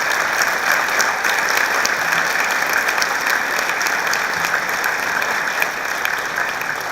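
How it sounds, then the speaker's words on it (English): An audience at an award ceremony applauds the board members with loud, dense, continuous clapping that holds steady for about seven seconds. "will you please stand up so we can all give you a big round of applause?"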